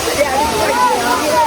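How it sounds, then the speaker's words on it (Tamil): Water flowing at Puli waterfall in Courtallam, a steady broadband rush running close and continuous beneath a voice talking over it. "என்னடா வாய்க்கால் மாதிரி தண்ணி வருது."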